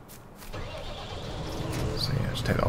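A tractor engine idles and revs steadily in Farming Simulator 19, a low continuous rumble that slowly grows louder, while someone talks over it.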